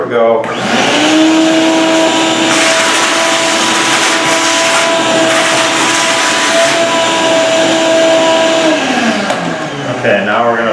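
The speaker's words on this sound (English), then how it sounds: "now we're going to vacuum it out" Vacuum cleaner sucking dust out of drilled holes during a crack repair, starting up with a steady loud whine and roar that holds for about eight seconds before winding down, a short voice following.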